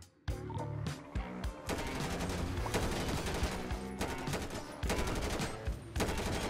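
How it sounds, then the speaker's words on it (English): Rapid gunfire in GTA 5 shooting out car tires, loud, dense volleys of shots in quick succession with brief gaps, a near-continuous fusillade. "I shot the tires."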